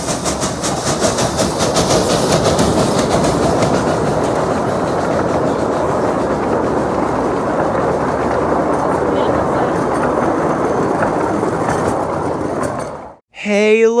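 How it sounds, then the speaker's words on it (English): The Kittyland Limited miniature train at a steam and power show pulls out of the station with a loud, continuous close-up rush and rumble that holds steady for about thirteen seconds, then cuts off abruptly before a brief final noise. "the Kittyland Limited pulled out of the station"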